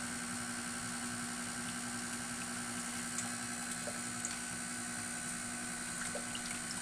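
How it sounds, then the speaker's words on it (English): Sorbet base pours into the spinning bowl of an ice cream maker over a constant motor hum with faint liquid splashes, steady and close, with no talking. "now that this is spinning, all we're doing is pouring this in"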